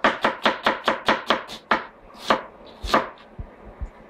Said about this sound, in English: Basically, chop your onions